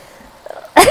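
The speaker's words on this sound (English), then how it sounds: "Oh goodness, the pepper's making me sneeze." A single sharp sneeze, brought on by pepper while making pan-fried noodles, bursts out loud and close after a quiet moment.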